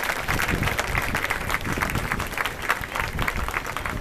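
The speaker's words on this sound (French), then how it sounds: "On les applaudit en mouvement." Sustained applause from an outdoor crowd at the inauguration of a statue of Louis-Joseph Papineau, a steady dense clatter of many hands holding at an even level for the whole stretch.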